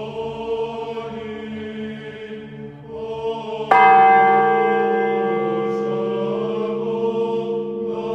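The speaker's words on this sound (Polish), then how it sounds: "Znajdują się na niej cztery zabytkowe dzwony." A bell rings out from the classicist-style belfry of an Orthodox church in Chełm, which holds four historic bells: one loud, bright strike midway through over a steady ringing hum, then a long resonant decay.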